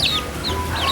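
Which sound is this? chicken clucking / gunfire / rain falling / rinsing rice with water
chicken clucking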